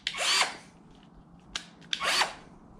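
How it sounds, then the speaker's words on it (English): A SKIL 20V cordless drill, set to its drill setting, whirs in two short bursts, each rising and falling in pitch, with a faint click between them and no talking. "I guess I'll start with the drill on this one"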